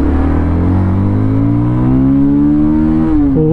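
A 2024 Bajaj Pulsar 220F motorcycle revs hard in first gear, its loud, close engine note climbing steadily in pitch toward the rev limit before dropping sharply at the end.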